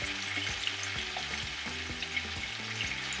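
Goat meat sizzling in a pan as a spice mix and garlic go in, a steady bright frying hiss with brief bumps and stirring sounds, close and with no voices.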